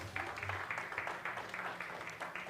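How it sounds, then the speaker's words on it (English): Audience applause at a Huawei Digital Talent Summit as a guest walks on stage, a steady wash of many hands clapping at moderate volume throughout, with a faint low hum underneath. "Applause."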